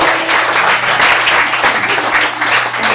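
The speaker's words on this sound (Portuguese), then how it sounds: "Você pode aplaudir ao Senhor?" A church congregation claps loudly and steadily throughout, a dense wash of hands close by, with a faint steady hum underneath and no voices standing out.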